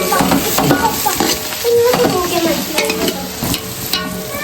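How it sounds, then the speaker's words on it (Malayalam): Onions sauté in a pan during festive Eid cooking, giving a loud, close sizzle with constant stirring scrapes and light clinks of a utensil against the pan. "അപ്പൊ ഉള്ളി വാടുന്നു"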